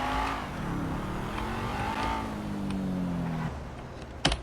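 A car engine revs in GTA 5, a rising and falling tonal drone that climbs through gear changes over a few seconds, then drops off before a couple of sharp thumps at the end.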